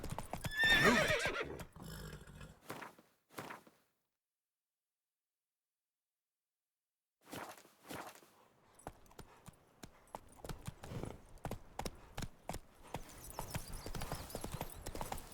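Roach, the horse in The Witcher 3, clip-clops through a game scene and neighs at the start. After a stretch of near silence, the hooves start up again and quicken into a steady, building gallop.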